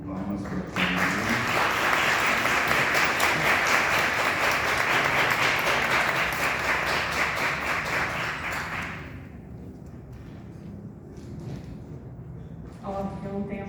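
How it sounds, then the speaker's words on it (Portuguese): An audience at an anniversary gathering of a literary academy in Lençóis Paulista claps in loud, dense applause for several seconds before it fades, then a voice begins speaking near the end. "Palmas para você."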